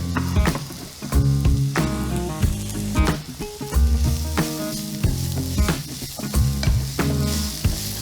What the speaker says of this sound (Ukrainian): Починати обсмаження, цибуля, чілі, одразу чесник.